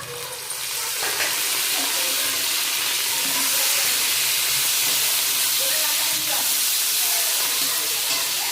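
Fish and oil sizzle loudly and steadily in a hot pan while making a bean mash with fish oil, a close, continuous hissing fry that holds for the whole stretch with no talking.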